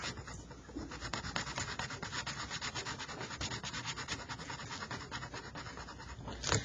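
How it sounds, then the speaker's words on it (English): Marker scribbling on paper to color in a plus sign, with quick rhythmic back-and-forth rubbing strokes repeating steadily and close throughout. "I'm going to color in the plus sign because I can"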